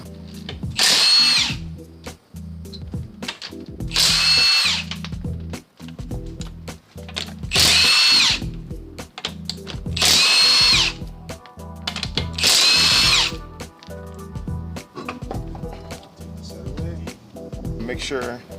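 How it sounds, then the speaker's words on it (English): An impact wrench hammers at lug nuts on a Honda wheel during timing belt work on a J Series engine, firing in five loud bursts of a second or so each, with talk in between. "I'm gonna go ahead and use that impact on the tire"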